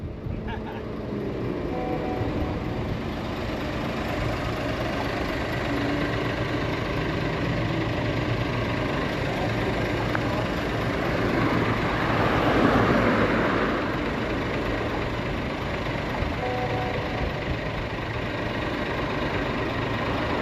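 A parked lorry's engine idles unattended, a steady, even drone that runs on without change, joined briefly by a slight swell of rushing noise partway through.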